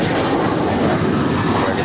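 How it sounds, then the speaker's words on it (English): A JetBlue Airbus A321 departing LAX for Newark gives a brief, loud, even burst of jet engine roar, with no one talking. "That is JetBlue 1374 departing to Newark Liberty on an A321"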